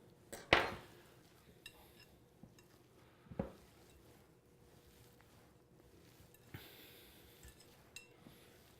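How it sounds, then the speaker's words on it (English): Ground beef being mixed with seasonings in a bowl, faint soft squelching and stirring under a couple of sharp clinks of utensil against bowl near the start, then quiet intermittent handling. "And now you just want to mix all this together."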